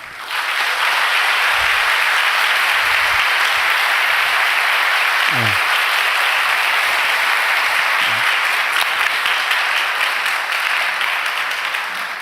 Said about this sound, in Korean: 인사할 때 큰 박수로 환영해 주시면 좋겠습니다